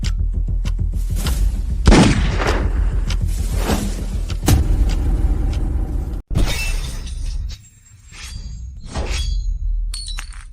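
Gunfire in a drama scene: sharp bursts of shots, impacts and shattering glass crack out over a loud rumbling background, followed by a sudden cut and a quieter stretch with further scattered hits.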